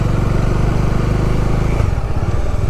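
A scooter engine drones loud and close without a break, with a steady low rumble that shifts slightly in pitch near the end as it rides.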